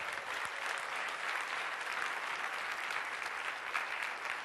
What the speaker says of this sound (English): Clap if you think you're creative.